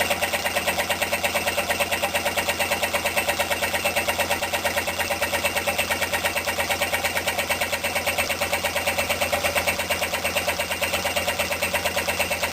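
Homemade Stirling engine with glass and graphite power piston running fast above idle, a steady rapid mechanical ticking and whir, close and continuous with no talk.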